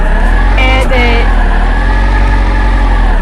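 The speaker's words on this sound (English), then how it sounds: "the tofu delivery car sounds like a freaking llama" Engine of the tofu delivery car in the driving game Drift One, a loud steady mid-pitched drone with a brief rising rev near the start, then settling back to an even hum.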